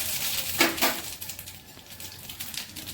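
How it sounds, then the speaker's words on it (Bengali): Radhuni seeds hit hot mustard oil in a pan, giving a short burst of crackling sizzle followed by a fainter, steady frying hiss close by. "রাঁধুনি ফোড়ন করছি।"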